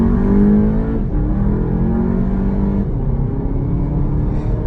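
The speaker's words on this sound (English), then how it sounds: "So we're just going to do a little bit of a roll-on acceleration." Volkswagen GTI engine pulls through a roll-on acceleration, a loud, steady drone heard from inside the car with rising pitch, a brief dip as if shifting, then continued pull.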